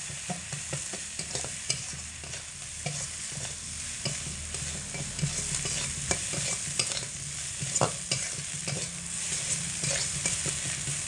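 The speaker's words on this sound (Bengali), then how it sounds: "এবার এই সব কিছু দিয়ে একসঙ্গে খুব ভালো করে কষিয়ে নিতে হবে মোটামুটি 10 সেকেন্ড মতো" Papaya, potato and mung dal with turmeric being sautéed together in a pan, giving a constant hissing sizzle broken by frequent quick scraping strokes of a spatula.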